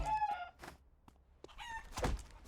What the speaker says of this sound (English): We're gonna try and take out the lower level chickens and stuff